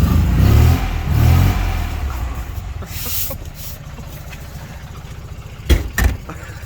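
A restored 1970 Fiat 500L engine revving twice, loud and close, before settling into a steady idle, with a few sharp knocks near the end.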